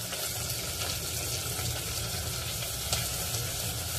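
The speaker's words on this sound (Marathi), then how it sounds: "कांदा परतत असताना त्यामध्ये 1 चिरलेला टोमॅटो देखील घालायचा आहे।" Onion and chopped tomato frying in a pan, a steady close sizzle and crackle with faint stirring, continuous for a few seconds with no talking.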